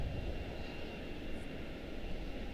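A Boeing 777 jet at Charlotte Douglas airport, a faint distant engine roar holding as a steady broadband rumble with no distinct peaks, no voices present.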